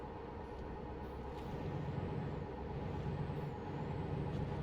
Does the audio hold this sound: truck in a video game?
yes